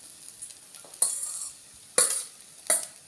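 Ground tuna thoran mix is stirred in a pan, with three or four short scraping strokes of a spoon against the metal amid soft sizzling, close by and otherwise quiet.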